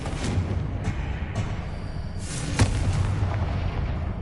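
A Confringo explosion spell goes off in a Harry Potter video game. It makes a rumbling blast with a sharp, booming burst, heard alone without speech.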